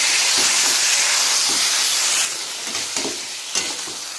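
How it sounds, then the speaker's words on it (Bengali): Marinated meat frying in a pan, with a loud, steady broadband sizzle that drops in level partway through and a few stirring scrapes alongside. "ম্যারিনেট করা মাংসটাকে ওর মধ্যে দিয়ে দেব ভালো করে মাংসটাকে কষাবো"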